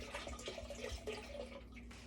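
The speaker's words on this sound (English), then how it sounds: "we're going to start with a bottle of wine right into that crock pot" Wine glugs from a bottle into a crock pot, a faint, steady liquid pour with small splashy bubbling throughout, no voices.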